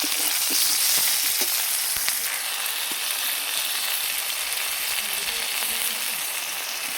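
Tomatoes drop into a pan of rohu fish curry, and loud, close, continuous sizzling and frying carry on with faint stirring clicks and no voices.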